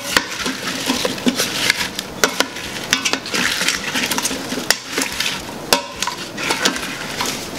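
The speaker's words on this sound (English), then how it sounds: "we're going to stir it all around to make sure that we get it coated as best we can" Apple crisp topping mixture being stirred in an Instant Pot, a busy run of scraping, clinking utensil strokes against the pot with sharp irregular taps over a steady rustle, close and fairly loud.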